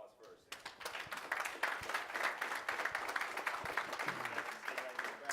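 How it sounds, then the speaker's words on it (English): Applause from a seminar audience for the speakers on stage, a continuous crackle of many hands clapping at moderate distance, with voices mixed in. "Give them a round of applause first."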